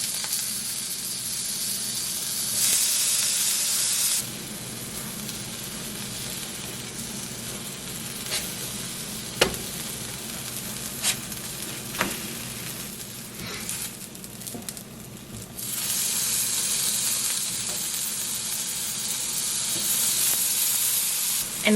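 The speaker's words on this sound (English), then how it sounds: "I'm gonna use this front space and brown up a couple sausages." Sausages browning in a pan give a steady, close sizzle and hiss that swells and fades across the stretch, with a few sharp clicks and pops along the way and no talking.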